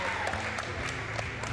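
An audience at a Saturday morning high school basketball game in a gym applauds steadily in a dense wash of clapping, with crowd murmur mixed in throughout.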